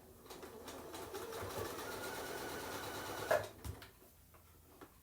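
A sewing machine hums steadily for a few seconds while back stitching across a candy corn colored placemat, then stops with a clunk, followed by soft fabric handling.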